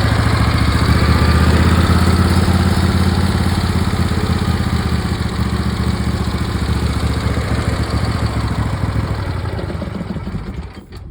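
Briggs and Stratton V-Twin engine idling steadily after carburetor replacement and new spark plugs, a loud continuous close-up rumble that holds throughout, easing slightly near the end.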